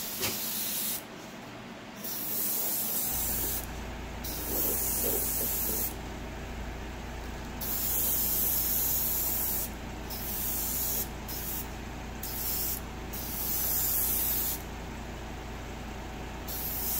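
A compressor-fed airbrush at about 12 psi sprays thin paint onto a Dragon Elefant model kit with Zimmerit during weathering, a close hiss in repeated bursts of varying length separated by short pauses.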